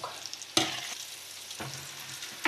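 Naem, Thai fermented pork, stir-frying in a pan, giving a steady close sizzle with a few louder bursts of stirring and scraping. No one speaks.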